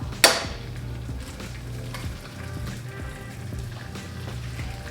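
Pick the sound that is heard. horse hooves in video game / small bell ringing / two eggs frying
two eggs frying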